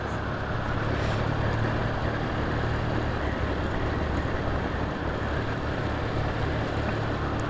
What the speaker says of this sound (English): I'm not sure if the actual camera picks up all the noise of these four bikes